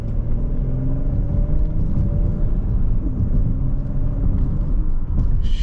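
A Porsche Panamera 4 performance sedan accelerates on a test drive, giving a deep, steady engine rumble heard from inside the car. It is loud and continuous for several seconds, with no talking.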